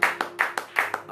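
A church congregation claps in a quick, steady rhythm, with about five even claps a second sounding close and fairly loud.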